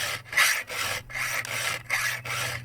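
A hand file rasps across a chainsaw chain in short repeated strokes out in the field, with the saw tilted slightly; about five clear near strokes with brief pauses between.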